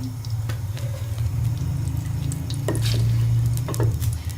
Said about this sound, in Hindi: कढ़ाई में हम तकरीबन 3 चम्मच के करीब जो है वो घी डालेंगे